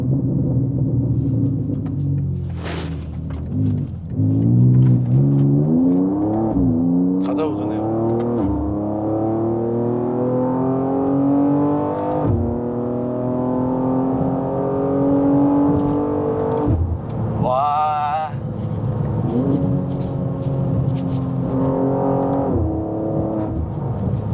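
A BMW M2's six-cylinder engine revs on a winding road, rising and falling through the gears as a loud, continuous throaty roar, with someone talking over it now and then.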